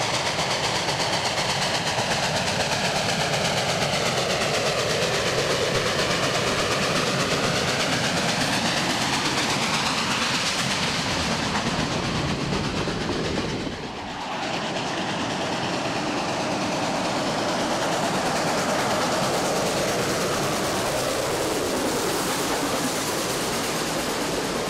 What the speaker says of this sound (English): come along with us as we enjoy some steam in the autumn season